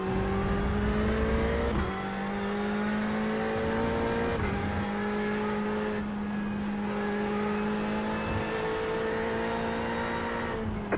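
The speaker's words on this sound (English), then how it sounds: "I love how that Porsche sounds as well." Porsche race car engine in a racing sim game, a steady high-revving drone that climbs through the gears with several sharp drops at upshifts, loud and continuous, with no talking.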